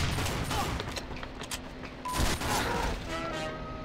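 Team Fortress 2 gunfire: a dense, continuous barrage of shots with crashing impacts runs through the whole stretch, fairly loud and busy, swelling again near the end.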